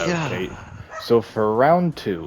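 Dogs bark and yip in short, loud, high-pitched bursts close by, partly overlapping a man's speech indoors.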